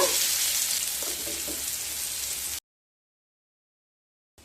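Pointed gourd (potol) pieces fry in hot oil with a steady, close sizzle for a few seconds, then cut off to silence.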